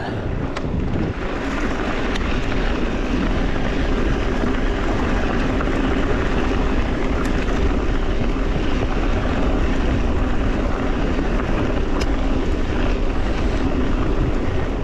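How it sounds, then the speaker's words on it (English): Loud, steady wind buffeting the microphone while riding an e-bike into a headwind along the Scarborough to Whitby Cinder Track, a continuous roar with no talk. "Unfortunately there's a bit of a headwind, but shouldn't make too much difference."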